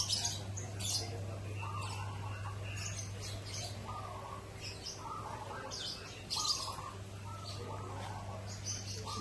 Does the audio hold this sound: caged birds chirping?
yes